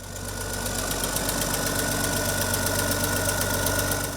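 A 1960s Farmall tractor engine idles steadily, a fast even knocking throb with a low hum, moderately close and without any talk.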